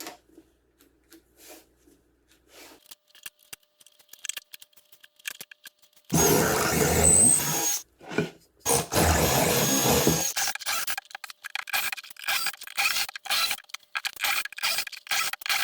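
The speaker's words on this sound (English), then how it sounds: "Then I can use the doweling jig to drill down into the boards on the line." After quiet handling noises, a loud drill boring dowel holes into wooden boards through a doweling jig grinds for several seconds, then continues in shorter bursts separated by brief pauses.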